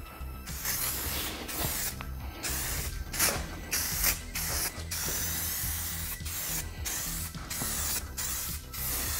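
Aerosol adhesion promoter misted onto vinyl Ford F250 door panels, a series of close, loud hissing spray bursts of varying length separated by short pauses, no talking.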